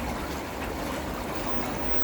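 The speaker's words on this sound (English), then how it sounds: "A little pump running the water" A small pump circulating water through a green pond filter of about 1500 litres produces a steady, close trickle and gentle splashing, continuous and even with no pauses or voices.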